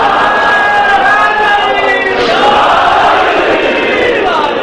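A large crowd chanting slogans in unison at a Shia religious gathering, loud and massed voices rising and shifting throughout, filling the space with sustained rhythmic chanting.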